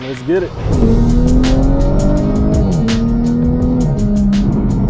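An Audi on its stock turbo pulls hard from a launch, a loud close engine note climbing through gears with brief shift dips, while people talk inside the car.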